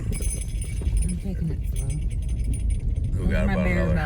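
Bear bells jingle and rattle continuously, close by, over a low rumble and a voice talking throughout, on a wilderness back road.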